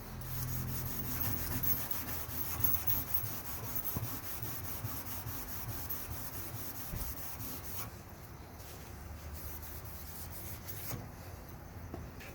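Someone scrubs the top of a lathe tool rest with a pad, making a steady, close rasping rub with brief pauses near the end.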